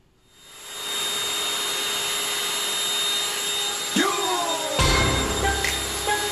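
A vacuum cleaner starts up and runs with a steady loud whine, then changes pitch a few times as it works at close range.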